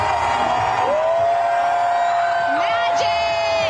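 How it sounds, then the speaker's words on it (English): Crowds of Dodgers fans celebrate a World Series championship in the streets, a loud dense roar of cheering with long whoops and yells rising above it. "Dodgers fans filled the streets to cheer on the World Series champion Dodgers."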